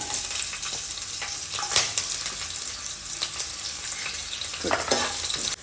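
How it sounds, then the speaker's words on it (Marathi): Cumin seeds and green chillies sizzle in hot oil in a home kitchen pan, a steady crackling fry with occasional stirring scrapes and bursts of spitting, close and fairly quiet. "तेल असं थोडं गरम होऊ द्यायचं आणि त्यात टाकायचं थोडंसं जिरा जिरा असं भाजून घ्यायचं आणि त्यात टाकायची हिरवी मिरची"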